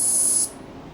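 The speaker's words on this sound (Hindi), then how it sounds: "ये फर्स्ट में जो है ये मिक्सर मशीन है, इसमें मिक्स किया जा रहा है दूध को।" A milk mixer machine at a milk collection center mixes milk with a loud spraying, hissing rush that cuts off abruptly partway through, leaving a low mechanical churn underneath.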